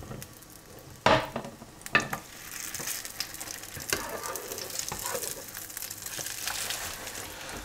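Norwegian fish cakes fry in browned, nearly burnt butter in a pan. A soft steady sizzle plays close by, with a few sharp clatters of a utensil near the start.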